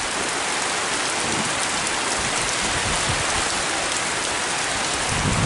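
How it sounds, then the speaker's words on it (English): Steady rain hisses and patters on surfaces throughout, with faint low rumbles of distant thunder beneath the downpour. "There's some pretty good thunder in the distance there."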